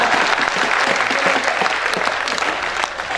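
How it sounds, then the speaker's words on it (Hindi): Dense, steady applause from a live audience at a Hindi hasya vyang kavi sammelan comedy poetry show with Sampat Saral, filling the whole stretch at an even, fairly loud level. "अब आपकी तालियां उठेंगी।"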